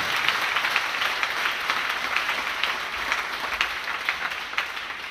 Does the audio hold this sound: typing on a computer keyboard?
no